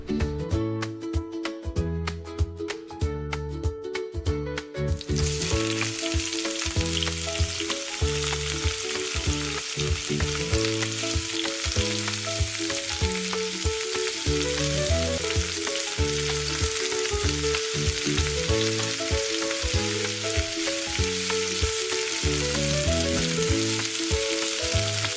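Tempeh frying in plenty of hot oil in a pan gives a steady, dense sizzle that starts a few seconds in and lasts throughout, with background music playing over it the whole time.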